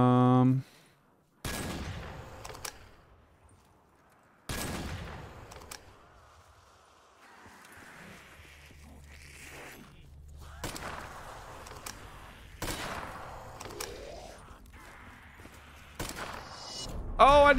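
Gunfire in a Teletubbies-themed Black Ops 3 Zombies map comes as a handful of separate loud shots spaced several seconds apart, with quieter game noise and a low hum in between.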